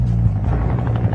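A helicopter sweeps over a prison roof during a riot, its steady low rotor thrum droning loud and continuous with no break.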